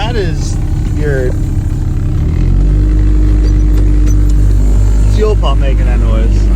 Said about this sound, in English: fuel pump making that noise.